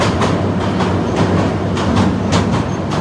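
Parjatak Express train approaching the Bhairab railway bridge in Bangladesh, a steady loud rumble of wheels and carriages with rhythmic clatter running throughout, close and continuous.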